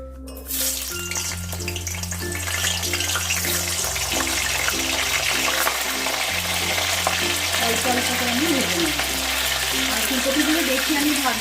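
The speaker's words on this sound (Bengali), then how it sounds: "ফুলকপিগুলো ভাজার জন্য আমি কড়াইতে তেল দিয়ে দেবো" Cauliflower florets fry in white oil in a wok, giving a loud, continuous sizzle and crackle close up, with a low steady hum underneath.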